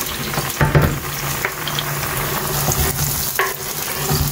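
Chopped onions, garlic and green chillies fry in hot oil, a close continuous sizzle with a few sharper stirring scrapes and spatters.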